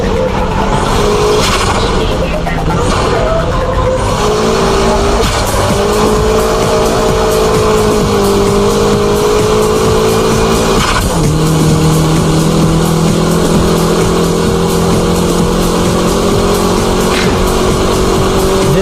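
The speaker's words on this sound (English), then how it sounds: "This is the ultimate style of drifting, high-speed drifting." A car drifts at high speed with a loud, continuous engine howl that climbs and drops in pitch as it revs, while tire squeal screeches over it throughout.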